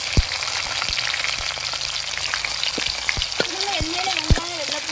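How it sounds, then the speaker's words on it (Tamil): Onion, garlic and green chili fry steadily in oil for a dried anchovy curry, giving a close, continuous sizzle with occasional crackles and a few brief clicks throughout. "இன்னும் எண்ணெயில் வெங்காயம் வெள்ளைப்பூடு பச்சை மிளகாய் கொஞ்சம் நேரம் வதங்கிக்கிறோம்"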